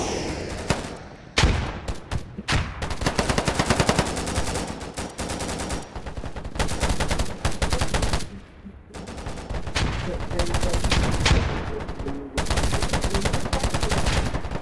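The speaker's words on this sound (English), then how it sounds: "Oh, is that you below me firing?" Sustained video game gunfire in a DayZ-style shooter, dense rapid bursts and single shots cracking almost continuously from close range, with brief lulls around the middle and a loud, busy battle texture throughout.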